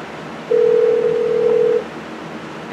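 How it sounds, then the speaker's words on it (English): Phone call rings through a budget XO Vision XD107 car stereo over Bluetooth inside a truck: one steady ring tone lasting just over a second, clear and close, with no speech. "It's ringing, and it's coming through the speakers."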